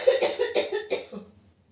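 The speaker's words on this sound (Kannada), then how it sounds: "Full dust allergy ಆಗ್ಬಿಟ್ಟದ. ನನಗೆ ಕೆಮ್ಮಿ ಪೂರಾ ಹಿಂಗೆ ಗೊರ್ರ ಅನ್ನತ್ತದ ಗಂಟಲ" A person coughs in a quick burst of several harsh, dry coughs that fade into a short throat-rasping tail, close and fairly soft, heard alone.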